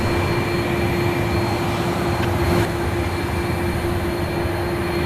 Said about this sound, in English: I've got Qantas 655 heading my way, just coming past Sheps here, Matt. It's an A330 going to Perth tonight.